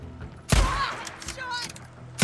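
Gunshots in the video game Days Gone, two sharp loud blasts about two seconds apart with a spoken voice in between.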